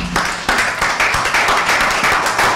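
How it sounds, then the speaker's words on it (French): Audience applause at a tribute ceremony, a steady wash of many hands clapping that swells after a brief start and holds loud and dense throughout, with no talking over it. "je vous demande de l'applaudir"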